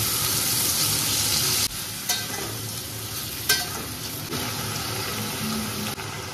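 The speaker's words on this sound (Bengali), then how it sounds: "এবার আমি কমলি শাকের ডাঁটাগুলো দিয়ে দিলাম" Kalmi greens stalks, fried potato and tomato cook in a pan for a vegetarian chana dal curry, giving a loud steady sizzle with a few stirring knocks and shifts in the hiss, alone without speech.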